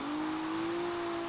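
A drift car's engine holds high revs in a steady, sustained droning whine, fairly close and continuous with no pauses.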